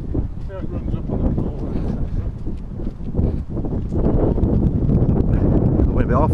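Strong gusts of wind buffet the microphone with heavy low rumbling, while people talk underneath throughout.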